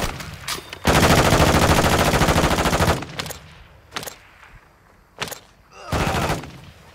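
Gunfire in Call of Duty: Modern Warfare II, with a long, loud burst of sustained automatic fire followed by several short, sharp bursts and single cracks, close and dominant.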